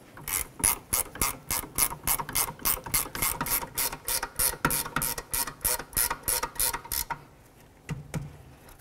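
A hand ratchet turns the brake caliper bolts on a 2007–2012 Nissan Altima during a rear caliper replacement, a rapid run of close, crisp clicks for about seven seconds before stopping, with no talk.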